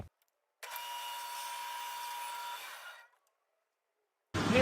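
Bandsaw resawing a thin wood board for a cutting board, a steady loud whine running for about two and a half seconds before winding down, followed by silence and then a sudden loud burst at the end.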